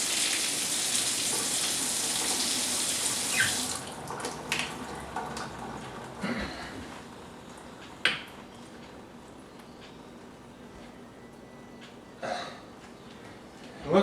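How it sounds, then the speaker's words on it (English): Hot water gushes from a sink faucet in a steady hiss for a few seconds, then shuts off, followed by scattered clunks and handling noises. "I'll turn on the hot water and open the valve"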